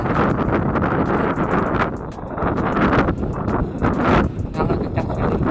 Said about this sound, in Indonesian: Walaupun anginnya kencang, begitu kencang